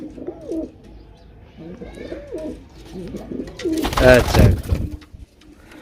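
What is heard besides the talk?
pigeons cooing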